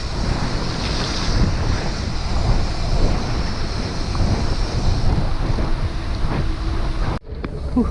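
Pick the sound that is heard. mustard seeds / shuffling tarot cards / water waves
water waves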